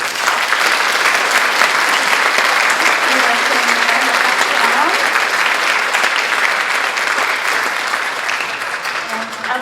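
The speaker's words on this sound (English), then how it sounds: "now we can go ahead and applaud them." An audience at a high school junior academic awards and honor society induction ceremony applauds award recipients, loud, dense clapping that fills the room steadily, with a few faint voices underneath.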